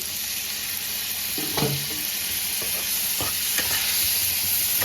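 Spice masala with turmeric and a splash of water fries in a pan for a bitter gourd and fish curry, giving a loud continuous hiss with a few spoon scrapes.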